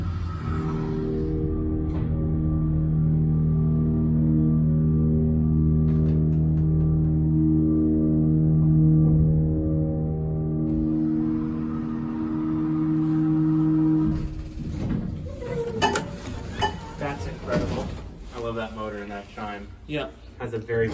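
Vintage hydraulic elevator at a mall in Miami, Florida, with a loud steady humming drone from the pump that holds for several seconds, then stops into clunks, rattles and shuffling.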